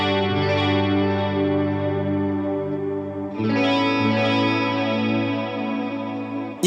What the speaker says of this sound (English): it's got this like wobble, it's pitch wobbling happening